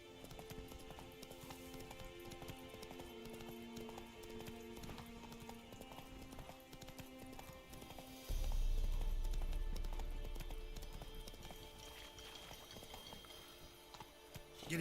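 Horse hooves galloping in the video game Witcher 3, a rapid steady clip-clop running throughout over in-game ambience, with a heavy low thump and swell partway through.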